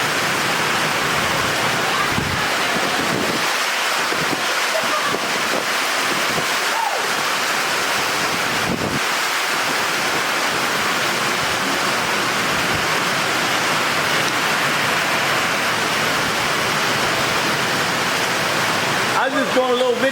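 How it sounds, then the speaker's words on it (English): Heavy rain pours down outside a trailer in a constant loud, even hiss, with people talking at moments over the downpour. "I was just doing a little video on the rain here"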